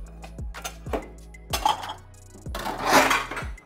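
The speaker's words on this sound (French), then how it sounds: "On va mettre ça sur une assiette." Bubble potatoes set down on a plate for poutine with beef, giving a few close, sharp clinks and knocks of dishware and cutlery in separate bursts, the last burst louder and busier.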